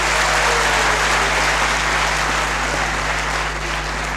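Students in a university lecture hall applaud loudly and steadily, a dense, sustained wash of clapping from a large crowd that holds throughout with no talking.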